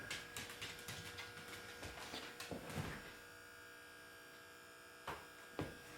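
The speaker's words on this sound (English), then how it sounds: "we got the engine buzz in the background, signifying that we still have analog DC" Analog DC power on an HO scale model railroad layout, a faint, steady electrical buzz droning in the background, with scattered clicks and taps over it and no talk.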